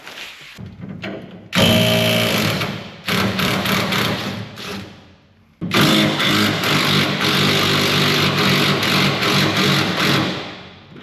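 A rear leaf spring shackle bolt on a 1994–1997 Ford F350 pickup is being loosened. Loud, close, rattling mechanical bursts come in three long stretches separated by short pauses, with no talking.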